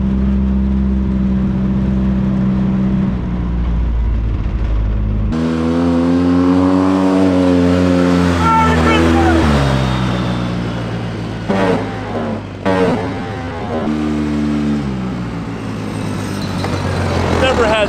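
A classic car drives with a loud, continuous engine drone that rises and falls as it revs, recorded from inside the cabin, with people talking over it.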